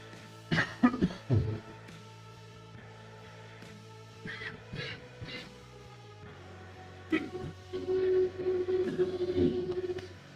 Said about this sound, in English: I've just coughed up a lung.